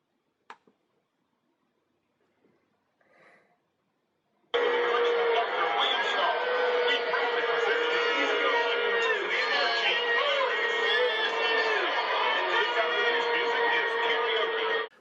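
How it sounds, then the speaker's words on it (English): Stadium crowd at an East Carolina University football game reacting loudly as band members kneel during the national anthem, a sudden sustained roar of voices and whoops after a few seconds of near silence. "members of the East Carolina University's band kneeled during the national anthem, and you can hear the crowd reaction"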